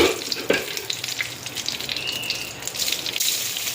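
Mustard seeds, urad dal and curry leaves crackle in hot oil for a Tamil tempering, giving a steady close sizzle with scattered pops and a sharp spatter near the half-second mark.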